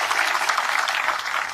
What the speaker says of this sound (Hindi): पहले महिलाओं के लिए जोरदार तालियां बजाइए